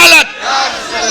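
Crowd at a religious gathering shouting back a response to a slogan call, a short loud collective roar that drops off after a fraction of a second and leaves a softer murmur.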